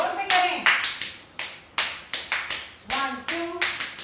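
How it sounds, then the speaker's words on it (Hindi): Finger clapping done on both sides as part of an exercise routine, a series of sharp, close claps in an uneven counted rhythm, with a voice briefly audible between some of them. "जो भी क्लैप करनी है, यह उंगली ताली दोनों तरफ।"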